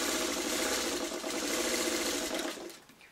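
A sewing machine stitches quilt blocks together like a four patch, running at a steady, even hum close by for nearly three seconds before stopping.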